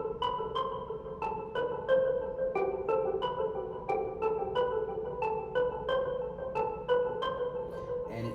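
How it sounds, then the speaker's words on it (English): An RnB beat with a reworked bell melody, bright bell notes plinking in a steady repeating pattern over a soft drum groove throughout. "So I changed the melody from one of the bells that I initially had"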